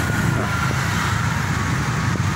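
Steady road traffic rumble is heard from inside a closed, air-conditioned car on a city street, a continuous low engine and tire drone with passing vehicles, no clear speech.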